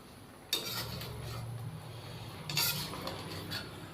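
Chicken karahi being stirred in a pan, with a utensil scraping and clinking against the metal in short bursts over a low sizzle, close and fairly loud, with no voices.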